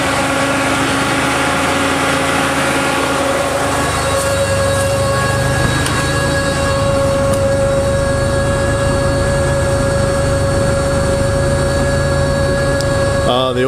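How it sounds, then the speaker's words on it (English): A 1986 Lesharo RV engine running steadily and fairly loud as the cooling fans kick on and load it down, with a constant drone and steady tonal whine throughout. "Fans just kicked on and loaded down the engine."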